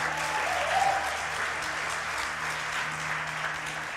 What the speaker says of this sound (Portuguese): Você pode aplaudir a Ele aí por isso?